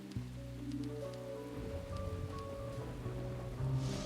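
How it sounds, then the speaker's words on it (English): Rain falls in the video game Deadly Premonition, a steady soft hiss of a downpour running under low tonal game ambience, with no talking. "talking in the rain again"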